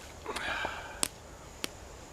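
A short, close sniff of a rum cocktail in a canteen cup, followed by a couple of faint clicks and taps.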